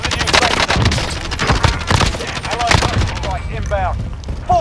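Rapid bursts of video game gunfire crackle close and loud in a dense volley, with sharp repeated shots and some radio-style voices and chirps over the combat.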